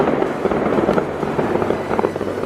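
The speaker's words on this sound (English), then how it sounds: "The fireworks are starting and Max is so scared." Fireworks pop and crackle in quick, irregular bursts over a steady rumble. The reports are fairly loud and close, and no one speaks.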